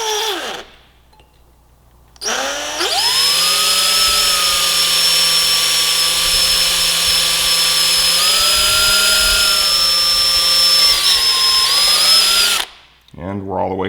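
A power drill with a sharp cobalt bit bores steadily through a steel motorcycle part, a close, loud, even whine lasting about ten seconds with slight pitch shifts under pressure, with brief quiet before and after.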